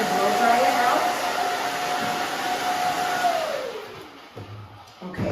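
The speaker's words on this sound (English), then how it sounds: "we're just gonna kind of blow dry it out" A hair dryer blows hair dry with a loud, steady whir, then it shuts off and winds down about two-thirds of the way through, leaving faint handling sounds and brief voices.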